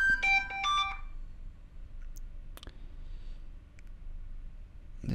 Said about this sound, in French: Oublié de couper mon téléphone.